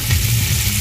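Tomatoes and green chillies fry in a pan for Indian-style khichri, a close, steady oily sizzle without pauses or voices.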